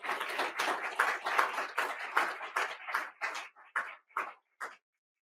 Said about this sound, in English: Please give our sponsors a big round of applause.